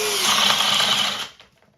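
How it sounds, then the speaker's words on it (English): A cordless 18V drill bores with a 7/8-inch spade bit, a loud, steady whirring grind that runs for over a second, then cuts off abruptly and fades out. "We're going to move up to a 7/8 spade bit here."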